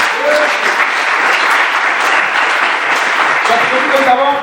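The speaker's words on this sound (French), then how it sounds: "On peut acclamer très fort." A Pentecostal church congregation in Côte d'Ivoire applauds loudly, a steady, dense roar of clapping that holds at full strength throughout, with voices mixed into the crowd.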